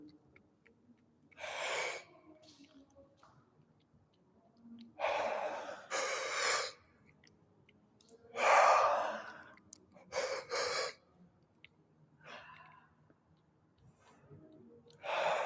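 A person yawns several times during a morning stretching session, producing drawn-out breathy exhalations spread across the stretch, with quiet pauses between them.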